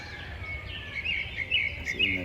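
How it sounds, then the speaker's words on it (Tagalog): Small birds chirp and trill faintly in the distance at dawn, around 5:30 a.m., short repeated calls over a quiet low rumble. "So, mga huni ng ibon."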